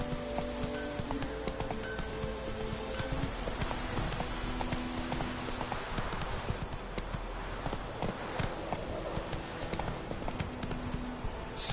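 Roach's hooves in The Witcher 3 clop in a steady trot across nearly twelve seconds, a continuous close rhythm over game ambience.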